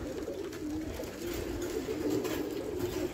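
Pigeons coo in soft, repeated low murmurs, several birds overlapping in a continuous burbling over a faint background rumble.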